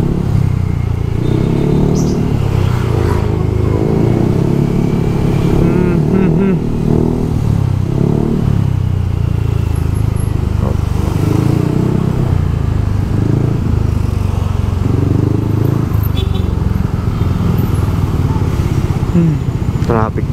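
Busy road traffic in Las Peñas with motorcycle engines revving and passing nearby, a constant loud rumble with voices talking over it.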